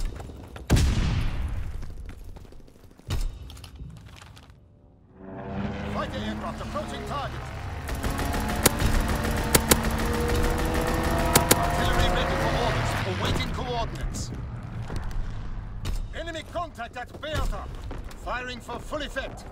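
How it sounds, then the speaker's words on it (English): A fighter plane strafing run in a World War II game set at Saint Marie Du Mont, with a whooshing approach followed by a loud, sustained burst of rapid gunfire and booms, under a voice calling out. "Fighter pilot ready for strafing run!"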